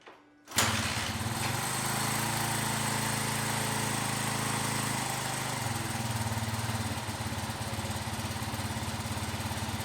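A 1981 Honda XL125s motorcycle engine on manual choke fires up after a brief quiet moment and settles into a steady, loud, close idle that runs on without any voices.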